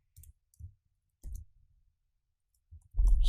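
Keys on a computer keyboard are tapped while typing code, a few separate clicks in sparse, irregular bursts with silence between them and a louder clatter at the end.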